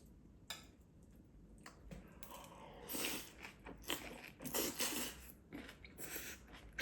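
Faint crunchy biting and chewing of braised Chinese dongpo pork belly, close to the mic, with irregular soft mouth noises and no talk.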